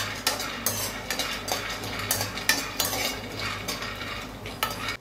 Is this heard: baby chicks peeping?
no